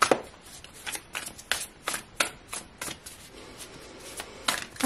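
A deck of tarot cards being shuffled by hand at close range: a quick series of crisp riffling bursts and soft card slaps in an irregular rhythm, with no talking.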